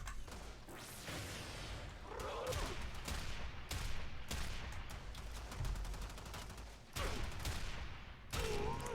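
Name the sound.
Hek shotgun firing in the video game Warframe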